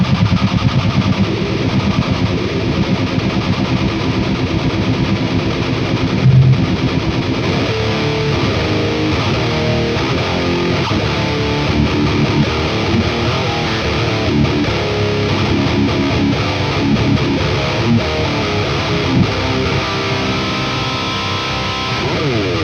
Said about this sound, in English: we can go to extremes here as well if we wanted to, you know, get some crazy distortion